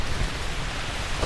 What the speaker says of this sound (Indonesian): Hujannya makin deras bang